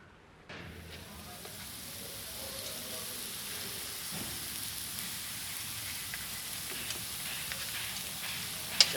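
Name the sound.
rain falling at a Sri Lankan beach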